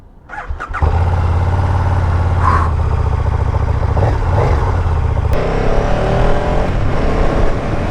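2017 KTM 1290 Super Duke GT with a 1301 cc V-twin engine under way, a loud, close, rumbling engine note that swells in at the start and holds steady with some throttle changes.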